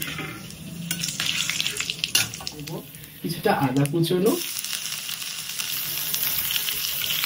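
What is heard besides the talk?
whole spices frying in oil for tempering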